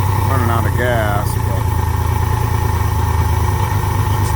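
A Honda Goldwing GL1500 motorcycle engine idles roughly with a steady low rumble throughout, someone speaking over it at the start.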